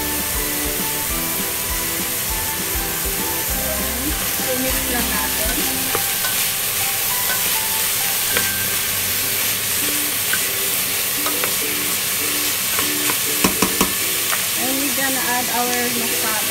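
Vegetables sizzle and fry in a hot pan for carrot dal soup while being stirred, a steady close hiss with scraping stir noises throughout and a voice speaking now and then.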